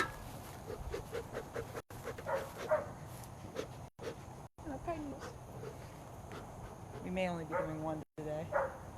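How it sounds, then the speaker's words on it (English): A dog barks and whimpers in short yips at an outdoor beehive during a honey bee inspection, heard intermittently close by under a person talking. "excuse my darn dog."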